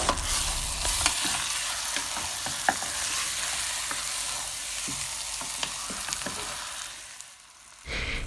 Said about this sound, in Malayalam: ഓറഞ്ചിൻ്റെ തൊലി കൂടെ ചുരണ്ടിയത് ചേർക്കുന്നുണ്ട്